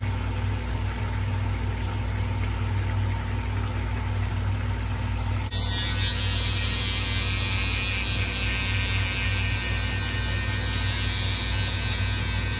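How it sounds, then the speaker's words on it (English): A Bell and Howell Tac Shaver electric razor runs steadily and loudly close by, its constant buzzing hum changing tone partway through as it meets the skin and starts shaving. "you saw my quick demo of this As Seen on TV Bell and Howell Tac Shaver"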